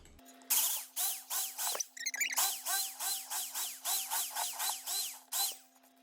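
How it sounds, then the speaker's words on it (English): A power drill whirs in a rapid series of short, high-pitched bursts, roughly a dozen pulses in quick succession, close and fairly loud. "just drill some holes in here so I can stick my stuff in"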